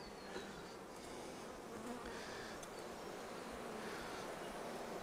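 Honey bees at a hive, a dense continuous buzzing swarm, close and steady, with no talking over it.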